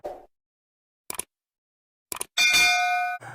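A notification bell ding sounds once, bright and ringing with a short sustained tail, after a few brief clicks and knocks amid silence.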